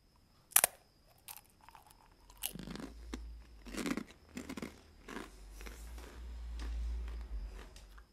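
A crunchy snack, denser and harder than cheese balls, is bitten once sharply and then chewed in a series of close, crisp crunches that fade toward the end.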